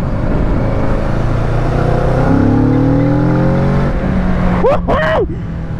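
A motorcycle ridden during an A2 licence lesson in city traffic, with a steady loud engine drone whose pitch rises smoothly as it accelerates, under wind noise, then a brief voice at the end.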